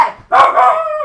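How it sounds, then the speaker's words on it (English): A dog close by lets out a loud, drawn-out bark that stretches into a howling yowl, preceded by a brief fading yelp. "There's my dog again. He's losing his shit."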